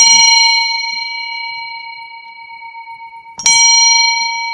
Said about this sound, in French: Mieux vaut entendre une cloche qui résonne bien.